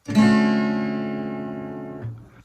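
A single strummed acoustic guitar chord, played with the ring finger lifted, rings out clearly and decays slowly, followed by a brief softer touch near the end. No voices.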